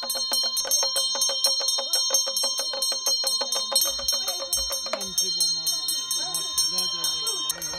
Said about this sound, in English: A monk plays a drum and rings a bell in front of the house for a special reason.